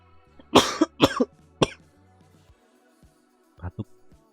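A person coughs several times nearby, three sharp bursts in quick succession, then two softer coughs after a short pause, against a quiet background.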